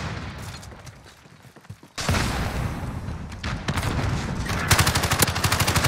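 In a video game, a thrown grenade explodes with a sudden loud blast. Rapid gunfire and crackling battle noise follow and grow denser toward the end.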